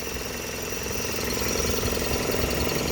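A 2004 Toyota Vios G idles steadily with an even, smooth mechanical hum and no irregular knocks, heard up close and alone for about three seconds.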